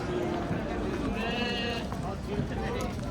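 A sheep bleats once, drawn out, amid constant crowd chatter and background noise of a busy livestock market in Jalal-Abad.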